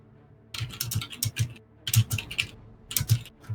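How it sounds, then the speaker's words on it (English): Rage typing on a computer keyboard: three furious bursts of rapid clattering keystrokes separated by short silences, close and clear with no speech over them. "Rage typing"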